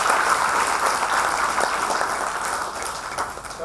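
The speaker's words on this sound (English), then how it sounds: "why don't you all give yourselves a big round of applause" Sustained applause from an audience at an MBA orientation programme, a steady dense wash of many hands clapping throughout without a break.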